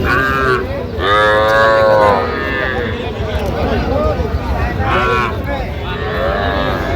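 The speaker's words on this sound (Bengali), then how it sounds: "ষাঁড় বাচ্চা, সুন্দর বাচ্চা" A bull calf moos at a busy village cattle market, its drawn-out calls rising twice over steady crowd noise and nearby voices talking.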